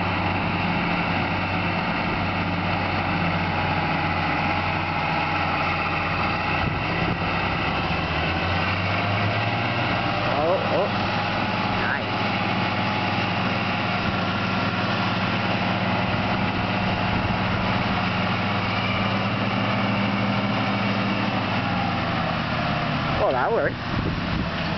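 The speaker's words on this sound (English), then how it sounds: "it's our biggest tractor" A heavy tractor engine rumbles steadily and loudly throughout, its low drone shifting pitch as it works pulling, with faint voices underneath.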